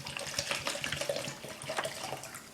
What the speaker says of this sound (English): First, I'm going to take the container and pour the vinegar into it.